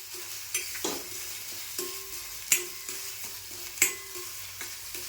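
Black masala paste sautéing in oil for a squid dish makes a low sizzle broken by sharp scraping strokes and clinks of a spoon against the pan, several distinct stirs spaced a second or so apart.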